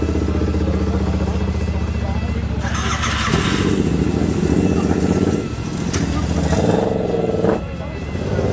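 A Royal Enfield GT Cup 650 twin revs loudly nearby as it sets off for a track session, a throaty idle rising into a sharper rev, with people talking over it.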